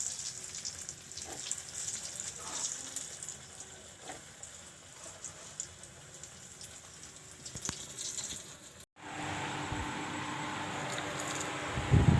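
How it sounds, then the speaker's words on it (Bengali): Snacks frying in oil in a home kitchen pan, a steady soft sizzle running throughout, growing louder and denser near the end. "তো চলো তাহলে এক এক করে সব ভেজে নিই।"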